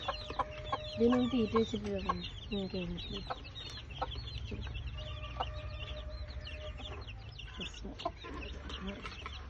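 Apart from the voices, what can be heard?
chickens clucking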